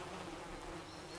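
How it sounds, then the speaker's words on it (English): Bees buzzing at a woven wicker skep hive, British black bees kept in the old pre-modern way; a faint, steady insect hum runs unbroken throughout, with no one talking. "But this is the British black bee."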